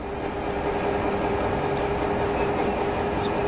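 A train departing a station in the video game Transport Fever, a steady rumbling rail drone with a faint hum, continuous and moderately loud with no talk.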